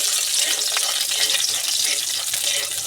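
Garlic sizzles in hot mustard oil, a dense, steady crackling hiss that fills the whole moment at close range with no pauses and no voices.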